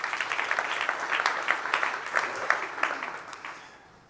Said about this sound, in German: geben Sie einen kurzen Applaus an das Team